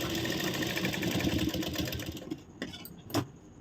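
A sewing machine stitches a blouse in a rapid mechanical whirr that runs steadily for about two seconds and then stops, leaving a few soft clicks and handling noises.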